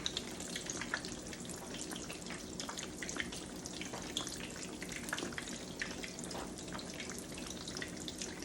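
Eggplant slices fry in a pan with a continuous, crackling sizzle full of small pops and spits, steady throughout and heard close up with no talking.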